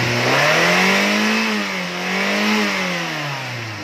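A Nissan car engine runs steady and close after a hard-starting fix, humming evenly with no misfire and swelling gently in pitch twice as it revs lightly, with no talking.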